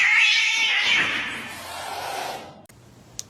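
A cat lets out one long, loud, drawn-out meow close by that fades away, followed by near silence and a faint click.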